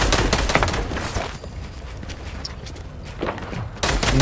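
Rapid gunfire bursts from a player in a Minecraft Bed Wars match, sharp repeated shots clustered at the start and again near the end, with fainter thuds and game noise between.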